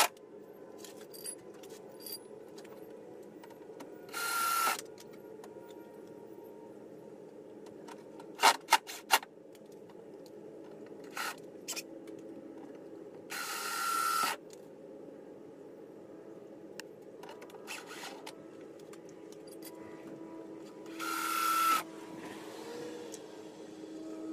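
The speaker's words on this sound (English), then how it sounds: "I'm just going to drill a hole, put a screw in, drill a hole, put a screw in, until it's all the way on." A drill bores holes for Chargespeed carbon fiber side skirts on a 2017 Toyota 86. Three short whirring bursts are spaced apart, with faint clicks and handling noises of screws being fitted in between.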